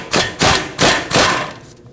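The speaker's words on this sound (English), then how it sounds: "with a hammer, we're going to hammer the side of the knuckle right here" Four heavy metallic hammer blows land at an even rhythm on the steering knuckle of a 2009-2015 Honda Pilot to free the tie rod stud, close and loud.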